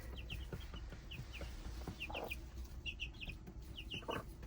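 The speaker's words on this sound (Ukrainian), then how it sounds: "Хороша така в них квочка мама і правда, доглядає за ними гарно." A brood hen clucks softly among her chicks on a village farm in winter, with repeated thin high chick peeps scattered throughout over a constant low background hum from a stove.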